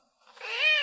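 A black cat gives a single short, rising meow, close and fairly soft, with nothing else around it.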